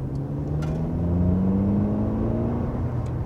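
Mercedes CLA 250 with a 2-liter turbocharged four-cylinder pulling steadily, a smooth engine drone whose pitch rises gradually as it accelerates, heard from inside the cabin over road noise.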